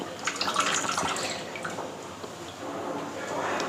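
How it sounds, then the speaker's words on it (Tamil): Water splashes and drips steadily while an absorbent cleaning cloth is wrung out by hand, a close, continuous wet trickle with small bursts of dripping and no talking. "எடுத்து உங்கள் முன்னாடியே புளியிறேன் பாருங்கள் எப்படி புளியிறேன்னு"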